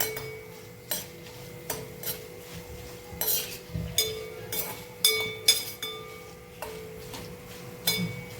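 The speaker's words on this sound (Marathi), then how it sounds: "हे बघा चांगलं हलवत राहायचं सारखं याला." A spoon stirs green chili crumble frying in hot oil, tapping and clinking against the pan about once a second in a steady rhythm, with a low background hum and no talking.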